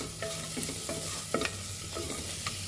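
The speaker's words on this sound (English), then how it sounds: "And we saute this." Mutton trotters paya soup ingredients sauteing in a pan, with a steady frying hiss under repeated stirring scrapes and a few sharper utensil knocks; close and continuous, no talking.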